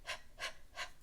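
Three quick, breathy pants in an even rhythm, close and fairly soft.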